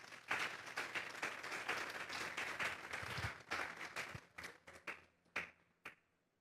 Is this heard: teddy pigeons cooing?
no